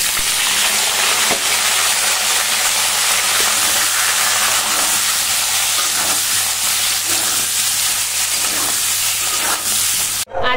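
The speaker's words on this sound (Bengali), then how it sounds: "এবার আলুগুলোকে একটু ভেজে নিই" Peeled potatoes fry in oil in a kadai, giving a steady, loud sizzle and crackle with occasional stirring scrapes, continuous throughout with no voices.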